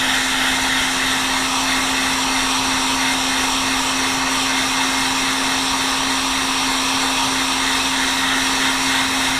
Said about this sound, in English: you want to keep this heat gun in a circular motion